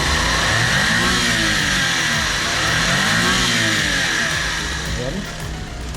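A gasoline Suzuki K6E turbo three-cylinder mini van engine, 63 horsepower with 12 valves, revs up and down in two swelling sweeps over a steady idle, loud and close.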